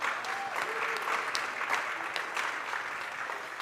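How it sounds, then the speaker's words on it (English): Applause for the sponsors at an election night show, a steady crowd clapping at moderate volume with a few voices faintly mixed in. "Please give our sponsors a round of applause as well."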